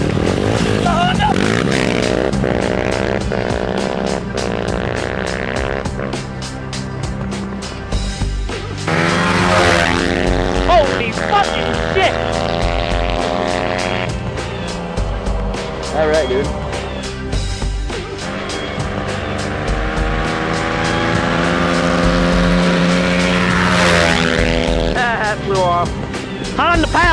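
A Honda motorcycle engine with an FMF exhaust revs repeatedly, rising and falling in loud, rattly sweeps close by, while someone talks and shouts over it.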